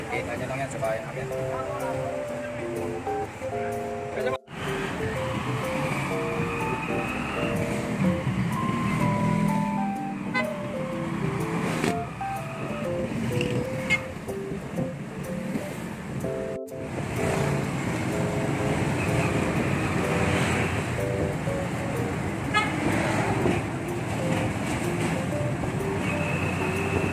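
Continuous rumble of a motor tricycle in motion in the Philippines, an engine drone with rattling and passing traffic noise, close and fairly loud, with voices talking over it.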